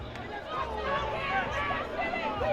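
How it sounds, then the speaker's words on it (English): A rowdy crowd cheers and murmurs in the stands at a Coolidge Colts high school homecoming football game, a continuous busy babble of many voices with a steady roar underneath. "You guys can hear the ruckus crowd here"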